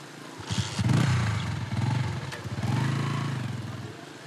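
A motorcycle engine runs close by on a road in Haiti, its steady rumbling drone rising and falling over several seconds with no one speaking.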